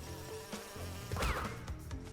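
A bee in Crash Bandicoot 2 buzzes in a brief, wavering drone amid layered game sounds and music, swelling slightly toward the middle of the short burst.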